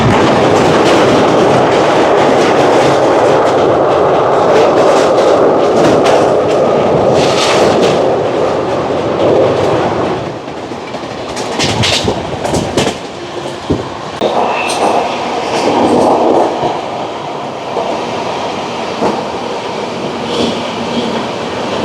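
Onboard a Howrah to New Jalpaijuri Shatabdi Express as it crosses a bridge: a loud, hollow rushing roar with rhythmic clatter, then a sudden drop to quieter clicking wheel noise after the span.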